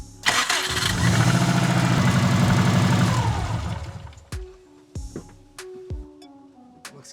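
A Subaru WRX, with its old starter still fitted after an oil line repair, cranks and fires into a loud, rough run for about three seconds, then cuts off, followed by scattered clicks and knocks.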